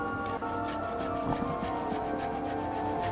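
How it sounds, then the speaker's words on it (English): A root rubbed back and forth on a grating tool makes a steady, rasping scrape close by, continuous with slight rhythmic strokes and no voices. "Other people call this grating, but it's called minced in most refined cookbooks."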